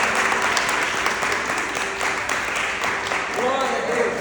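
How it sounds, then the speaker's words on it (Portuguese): A church congregation applauding during a service, a sustained wash of clapping from a large crowd at an even level, with a faint musical tone underneath. "Quem pode aplaudir a esse Deus maravilhoso?"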